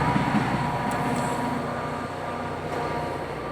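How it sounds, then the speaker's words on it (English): A loud train rumbles past nearby, a dense steady roar of wheels and engine that fills the whole stretch and eases slightly toward the end, with no talking over it. "Without this motherfucking train loud as hell."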